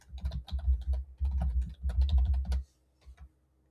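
A computer keyboard clatters under quick, close typing in three short bursts of rapid keystrokes, followed by near silence with a couple of faint stray taps.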